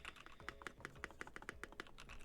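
Rapid typing on a newly built, hand-assembled computer keyboard, a quick run of crisp close key clicks and clacks, heard alone and fairly quiet.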